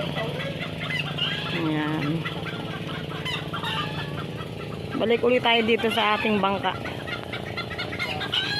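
Pet chickens cluck and squawk nearby, a burst of agitated clucking in the middle, with a person talking briefly over the steady outdoor background.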